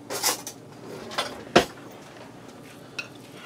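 A teaspoon is snatched up from a kitchen's cutlery, giving a few sharp metallic clinks and rattles spread over a few seconds, close and moderately loud, with a faint final tink.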